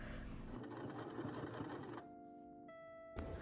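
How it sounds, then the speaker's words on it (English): A sewing machine stitches a dress skirt to its bodice, a steady close mechanical whir with a fast rhythmic clatter that slows and shifts pitch near the end, then a brief final burst. "I very slowly sewed the skirt to the bodice"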